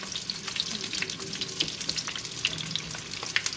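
Jalapeños and carrots sear in a very hot pan, a steady crackling sizzle with sharp pops and spits scattered throughout, fairly quiet and continuous with no voices.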